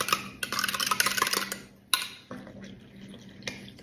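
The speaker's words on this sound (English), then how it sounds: "And I'm going to mix it together." Butter, milk, egg and vanilla being mixed in a bowl for barm brack, with a utensil scraping and clinking against the bowl in quick, uneven strokes, close and moderately quiet.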